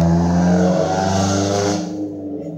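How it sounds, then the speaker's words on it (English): A car driving by on a road outdoors, its loud, steady engine drone passing close before fading away after a couple of seconds. "Sorry if you hear any cars driving by."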